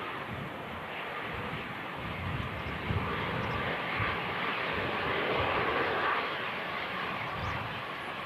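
EasyJet airliner touching down on runway 23 right at a windy Manchester Airport, a steady broadband engine roar with rushing wind noise held at an even, moderate level throughout, fairly distant and with no voices.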